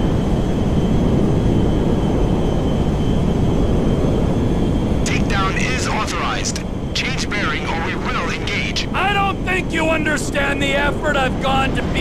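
Cargo plane engines droning in GTA 5, a loud, steady, continuous roar throughout with voices talking over it in the second half.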